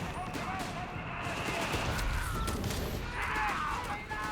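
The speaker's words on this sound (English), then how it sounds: "1919 has been upgraded to the 50 cal down here" An upgraded .50 cal machine gun fires in a Company of Heroes 3 battle, quick bursts of rattling shots amid distant battle noise, fairly faint overall.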